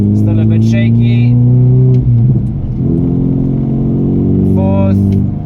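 A Ford Figo with a freshly replaced clutch pulls uphill in first gear, its steady, loud engine drone holding close throughout with a brief dip midway, while a voice talks over it.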